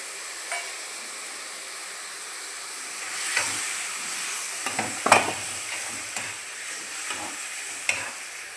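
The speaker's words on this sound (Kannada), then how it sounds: "ಸ್ವಲ್ಪ ಟೊಮೊಟೊ ಜೊತೆನೆ ಮಶ್ರೂಮ್ ಇನ್ನು ಸ್ವಲ್ಪ ಫ್ರೈ ಆಗಲಿ." Mushrooms and tomato frying in a pan, giving a soft steady sizzle with occasional stirring scrapes and clicks, fairly quiet and with no voices.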